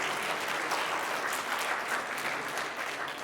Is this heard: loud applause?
yes